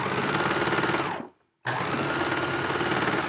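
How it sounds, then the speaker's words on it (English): A sewing machine stitches knit fabric for a Yup'ik qaspeq, a rapid loud close-up mechanical chatter that stops briefly for a corner turn and then resumes. "It's kind of tricky sewing around the two corners"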